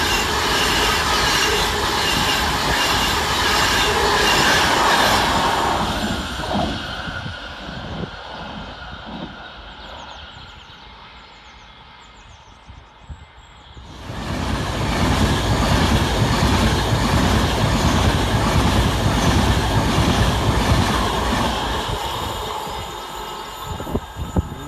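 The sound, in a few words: Avanti West Coast Class 390 train passing through Kidsgrove station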